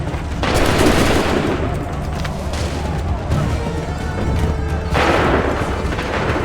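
A volley of musket fire in the Assassin's Creed 3 video game: loud, massed gunshots crack out in two bursts, near the start and again near the end, with a rumbling din of battle between them.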